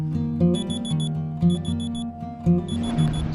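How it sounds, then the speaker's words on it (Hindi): An electronic alarm clock rings in repeated beeping bursts, each a quick cluster of high chimes, with a brief gap between rounds. "सुबह के 3 बजे मेरा पहला अलार्म बजा"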